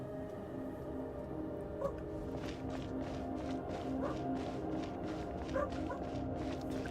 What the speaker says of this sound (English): The doggos are barking.